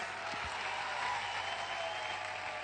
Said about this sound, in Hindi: मैं चाहूंगा कि परिमल सर के लिए एक जबरदस्त तालियां जरूर होनी चाहिए।